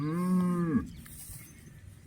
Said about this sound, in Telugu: మంచి క్వాలిటీ హోలిస్టైన్ బ్రీడ్ ఆవు.